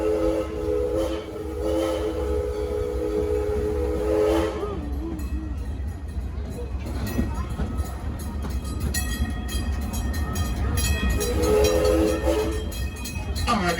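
A theme park train rumbles steadily along its track on board the Six Flags & Texas Railroad, its whistle blowing long, layered tones at the start and again near the end over constant mechanical clatter.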